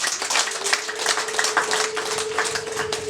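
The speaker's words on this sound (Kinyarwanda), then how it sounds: "nuko bakumbera amashyi menshi cyane" Dense clapping from a crowd at a Rwandan traditional marriage ceremony (gusaba and gukwa), many sharp overlapping claps steady throughout, fairly close, with a faint steady hum underneath and no talking.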